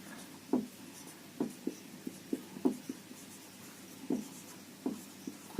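A pen writing a multiplication table on paper, with soft scratchy strokes in irregular short bursts, close and quiet with no talk.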